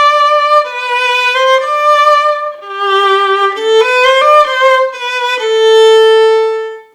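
A violin plays the chorus from Judas Maccabeus from Suzuki Book 2, a smooth bowed melody of sustained, connected notes, loud and close, ending on a long held tone.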